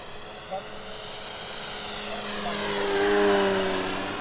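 A 1/5 scale electric RC P-51D model airplane flies past, its whining motor and propeller drone rising steadily and growing louder as it comes closer.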